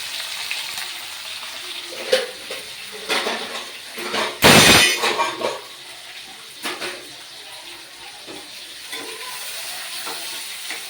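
Curry leaves, onion, green chillies and tomato frying in a village kitchen pan, heard as a steady sizzle with a sudden loud hissing burst as the ingredients go in, and a few stirring knocks after it.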